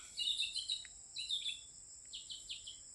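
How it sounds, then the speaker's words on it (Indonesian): Bird chirps in quick clustered bursts, fairly close, over a steady high insect-like hum at a pineapple plantation; no voices. "Wow, ada burung berbunyi di bawah."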